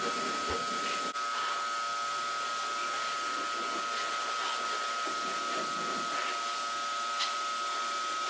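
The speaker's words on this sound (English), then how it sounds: "we'll bring out the 2000 PSI electric pressure washer" A 2000 PSI electric pressure washer sprays snow foam onto a car, giving a steady loud hissing spray with a constant motor whine underneath, continuous and close, with no talking.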